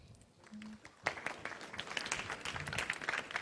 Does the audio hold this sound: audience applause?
yes